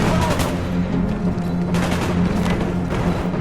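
A minigun in the Call of Duty: Black Ops campaign fires loud, continuous rattling bursts close up, with booming impacts and battle noise throughout, no talk heard.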